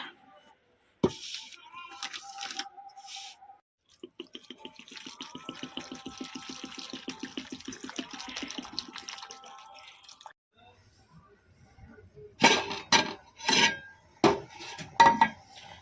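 Water poured into a pot or bowl of freshly cut food for rinsing in a home kitchen, a steady splashing stream lasting several seconds, bracketed by clinks and knocks of utensils and dishes.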